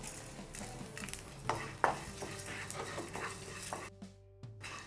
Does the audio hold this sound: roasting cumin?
yes